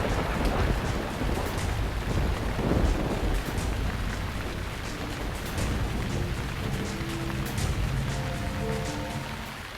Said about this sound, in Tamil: ஆனா இப்ப மழை துறல் போடுது.